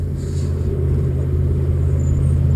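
A Jeep engine at full throttle under hard acceleration, tested after a transmission slip fix, gives a loud, steady low rumble and drone from inside the vehicle that holds constant without a break.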